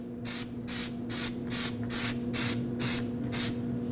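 Anti-seize compound is sprayed onto the wheel hub of a 2005-2021 Nissan Frontier 2WD in eight short, evenly spaced hissing bursts, close and alone against a low steady hum.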